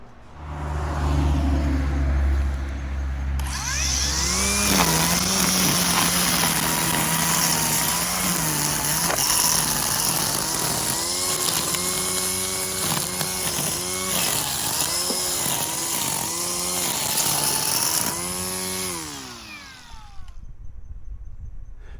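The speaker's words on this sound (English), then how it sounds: "I would recommend this QUICKFEED DeWalt weed eater head" A DeWalt string trimmer fitted with a QUICKFEED weed eater head spins up after a few seconds of quiet and runs loud and close with a shifting, whining pitch, then winds down near the end.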